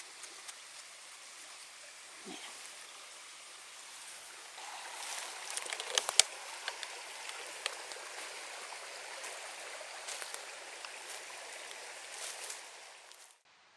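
A stream flowing beside a wild mushroom-picking spot in a Swedish forest, a soft, steady trickle with a few scattered light clicks and rustles nearby, and no one speaking.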